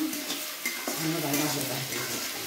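Goat meat cooking in rice bran oil, a close, steady sizzle with stirring and the occasional scrape of a utensil against the pot.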